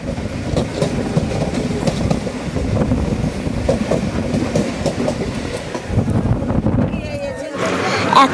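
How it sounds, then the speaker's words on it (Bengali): A moving passenger train out of Sealdah heading to a village Kali temple, with a loud, steady rumble and rhythmic clickety-clack of wheels on rail joints heard from inside the carriage, and voices faintly under the noise. "এখন আমরা ট্রেনে আছি।"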